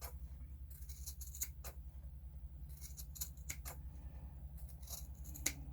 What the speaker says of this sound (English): So just cut down your excess.